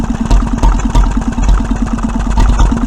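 A 1925 Petter M vintage stationary engine of 1.5 horsepower, rated at 750 rpm, runs steadily, its close, loud exhaust beats thumping in an even rhythm with no talk over it.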